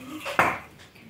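A metal cooking pot being washed in a home kitchen before making pudding gives one sharp, close clank of cookware against dishes, followed by a fading ring.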